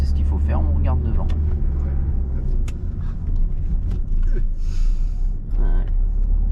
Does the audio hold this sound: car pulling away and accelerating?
yes